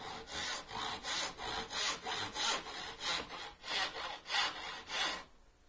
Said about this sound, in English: Now, the last thing you do on sawing is, since this is a push saw, as I go forward, then I lift the saw out.